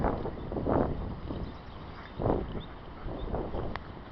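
Heavy wind buffets the microphone in rough, surging gusts, a dense roar that rises and falls in loud swells throughout.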